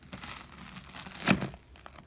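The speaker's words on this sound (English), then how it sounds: "You need to peel back the pads fully" Arctic Sun hypothermia therapy pads being peeled back from a patient: soft crinkling and rustling throughout, peaking in one sharper tearing crackle midway, close and fairly quiet with no talking.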